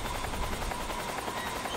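A helicopter in Metal Gear Solid 3 thrums continuously with rapid, even rotor chop and a dense engine roar, loud and steady throughout with no talk.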